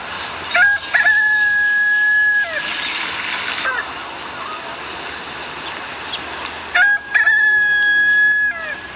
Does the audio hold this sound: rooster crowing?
yes